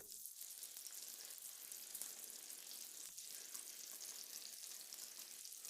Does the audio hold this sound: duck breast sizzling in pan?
yes